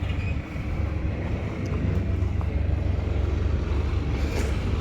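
Steady low diesel drone of an Arjun 605 DI tractor running at a tractor market, close and constant with a slight dip near the start, under a layer of general outdoor noise.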